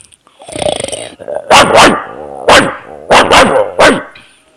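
A person imitates a dog, letting out several loud, sharp barks in quick pairs after a brief vocal lead-in.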